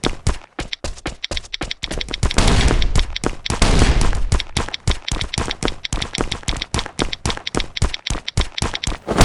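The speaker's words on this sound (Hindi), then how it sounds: "तभी पीछे से मुझे फायरिंग का साउंड आने लग गया" In the Last Island of Survival video game, a fast train of sharp gunshot cracks rattles on without pause across the whole stretch, with a denser, noisier burst in the middle, fairly quiet overall.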